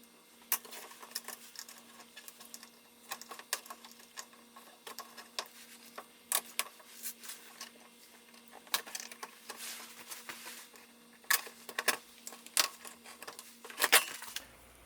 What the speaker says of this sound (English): I'm just going to use a pick and get these fasteners out of here.